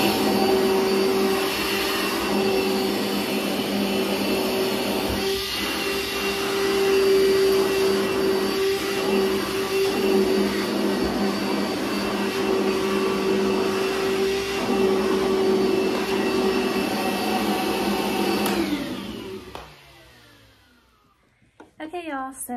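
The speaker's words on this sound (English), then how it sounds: "I'm gonna get the vacuum, set up the tripod, and get this vacuumed up and show you guys" A DeWalt cordless handheld wet/dry vacuum runs loud and steady with a constant motor whine for about nineteen seconds, then shuts off and winds down, leaving near silence.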